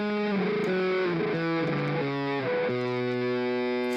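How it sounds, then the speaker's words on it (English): Distorted guitar sample played by hand, heavy and loud with sustained clipped chords shifting pitch over about four seconds, no talking. "Here I have this sample, which is basically a guitar that I played. Normally it sounds like this."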